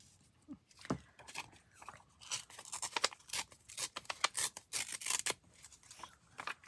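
Paper image being trimmed with scissors for a collage built over sheet-music paper, a series of quick, close snips and crisp cuts with rustling paper between them, no talking.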